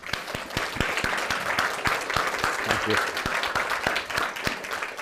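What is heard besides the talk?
audience round of applause for the team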